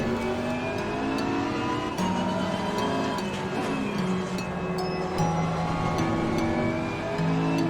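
Race cars in a racing video game, engines whining and revving with steady rising and falling gear tones, several cars blending into a continuous loud drone.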